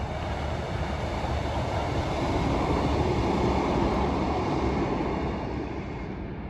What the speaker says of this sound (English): Let's have a little look at the Treherbert train going through the new S2-14 station.